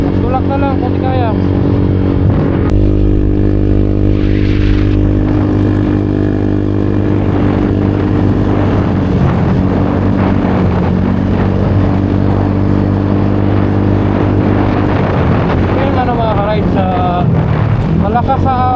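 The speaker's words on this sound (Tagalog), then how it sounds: "Malakas sa ahon yung motor natin" A motorcycle engine labors steadily while climbing uphill on a long ride from Mindanao to Manila, its drone loud and constant beneath heavy wind buffeting on the microphone, with a rider talking over it.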